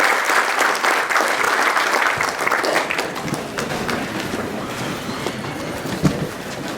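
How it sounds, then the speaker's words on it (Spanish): Church congregation clapping loudly and steadily, the applause thinning slightly toward the end with a few louder individual claps. "Denle un aplauso al Señor."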